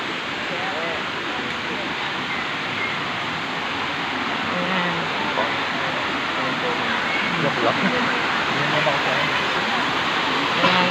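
A waterfall at Tanay, Rizal roars as a steady, loud broadband rush through the whole stretch, with people talking over it.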